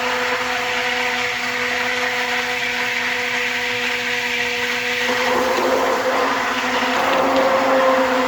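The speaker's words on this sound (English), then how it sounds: "You really want to blend it well" An electric blender whirs continuously as it mixes a homemade soap batch of oils, a loud steady drone that shifts pitch partway through as the speed rises or the mixture thickens.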